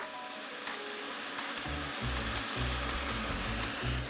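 Stock poured into a hot pan of braising chicken, a loud, steady hiss and sizzle with low rumbling bubbling rising beneath it, close up and without talk.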